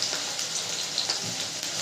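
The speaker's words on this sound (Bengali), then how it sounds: "আলু বেগুন সিমগুলো ভাজতে দিয়ে দিলাম" Strips of potato, eggplant and beans frying in oil in a pan, a dense, even sizzle and crackle that hisses steadily, close and alone without any talk.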